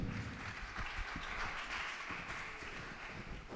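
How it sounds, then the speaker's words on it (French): A seated audience at a French media event applauds steadily, a dense, even wash of clapping heard at a moderate distance with no break over a few seconds. "On peut les applaudir bien fort, s'il vous plaît."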